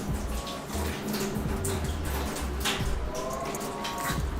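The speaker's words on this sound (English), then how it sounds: "give a little quick little rinse to the onion" Running tap water splashes steadily over an onion in a kitchen sink during a quick rinse for Sinaloa-style coyotas, a continuous close wash of water with small squishy handling noises.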